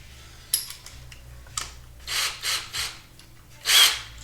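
A power drill fitted with a decent-sized bit bores a hole for a bundle of wires during a robot build, whirring in a few short, loud bursts with quieter gaps between them.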